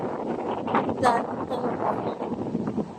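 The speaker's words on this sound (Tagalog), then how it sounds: "Lakas ng hangin." Gusty wind buffets the microphone in a steady roar, with faint rustling and a voice briefly in the background, in Hinigaran.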